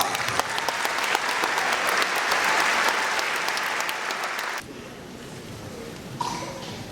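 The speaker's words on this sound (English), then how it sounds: "Could we please have a round of applause for the Auto Body?" Audience applause at a 2019 senior awards ceremony, honoring auto body students: sustained, dense clapping from a large crowd for several seconds, then dropping to a lighter, scattered patter with a brief renewed burst near the end.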